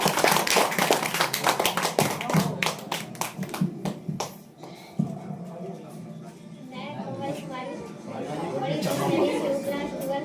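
Audience clapping to welcome a speaker at a last-day student celebration: a burst of loud, close applause fades out, then people talk and chatter in the room.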